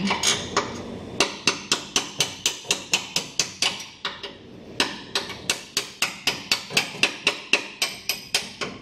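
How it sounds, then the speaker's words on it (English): Sharp metal hammer strikes ring out on the rear suspension of an 80 Series Land Cruiser during an install, a fast, steady series of about thirty close, loud blows with a short pause midway. "Cable is right in the way of hammering on this one."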